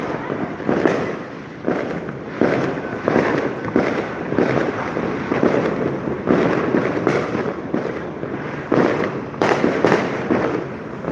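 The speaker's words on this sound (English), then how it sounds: "There are fireworks from the distance." New Year's fireworks boom repeatedly at irregular intervals, distant muffled bursts over a constant rumbling background.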